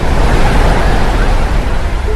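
A sound effect for a radio play of a massive ocean wave that topples a boat, heard as a loud, steady roar of surging water and spray filling the whole clip, with no voices.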